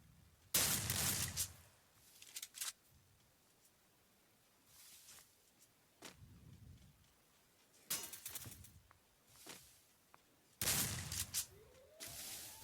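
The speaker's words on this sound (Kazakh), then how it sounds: "мына жақта дескі атыс кетіп отыр енді" Gunfire in the mobile battle-royale game Free Fire: several separate bursts of loud shots, including close automatic fire, spread across the stretch with quieter gaps between them and no talking.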